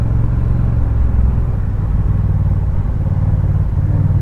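Honda big bike motorcycle pulling hard in first gear, a close, steady, loud engine rumble that holds throughout without a break and with no talk.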